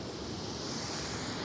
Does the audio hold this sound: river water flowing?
yes